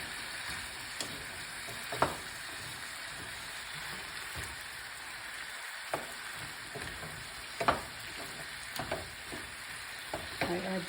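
Fresh ginger sauteing in a pan for chicken wing curry, a steady soft sizzle with occasional scrapes and taps of a spatula, fairly quiet and close, with no talking.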